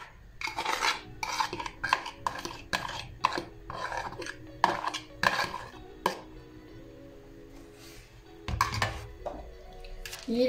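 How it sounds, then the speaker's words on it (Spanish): Chicken patty mixture being mixed with egg by hand or utensil in a bowl, a series of close, rhythmic wet scraping and squishing strokes with short pauses, no talking. "Lo voy a mezclar. Vamos a meter y repartir bien."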